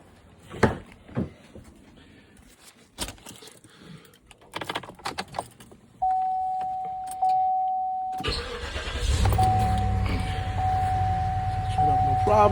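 A Cadillac DTS with its fuel pump relay bypassed goes through scattered clicks and handling noises, then a chime starts. The engine cranks and catches with a sudden roar and settles into a steady idle as the chime keeps sounding.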